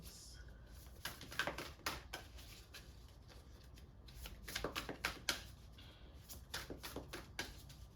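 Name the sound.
tarot cards being shuffled for a reading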